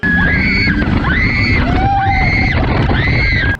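Riders scream on an amusement park ride at Vialand, loud shrill wails rising and falling in four repeated waves over rushing wind.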